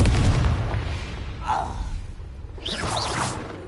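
A Confringo blasting spell goes off in Hogwarts Legacy, a deep booming burst with a whooshing swell, followed by a fainter crackling flare-up near the end, heard close and without talk.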